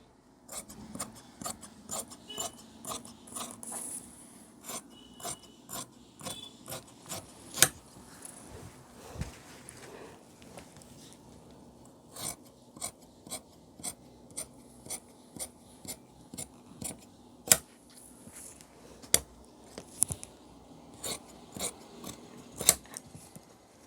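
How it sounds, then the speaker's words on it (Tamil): Scissors cut through uniform coat cloth in a long run of crisp, rhythmic snips with short pauses between bursts, close and clear with faint rustling of fabric and no talking. "இப்போது சேம் இதை அப்படியே கட் பண்ணிடணும்"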